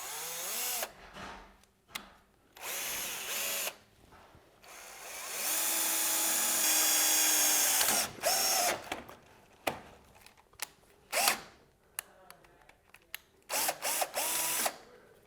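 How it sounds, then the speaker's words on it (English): Power drill boring an 1/8 inch pilot hole: several short whirring bursts with quick stops and restarts, then one sustained steady run, close and fairly quiet. "I'm going to start with an 1/8 inch bit to drill a pilot hole."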